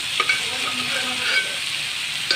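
Cluster beans frying in a pan for a poriyal, stirred with a spoon over a constant bright sizzle and occasional soft scrapes, close by with no voices.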